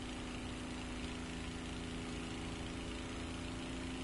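Aircraft engine running at full throttle in War Thunder, heard from the cockpit as a steady, continuous drone with a strong low hum and an unchanging roar, no voices over it.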